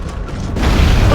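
Building rumbling and shaking in the Gears of War: Judgment video game, a broad low rumble with creaks and mechanical grinding that swells louder over its second half, heard alone with no voices.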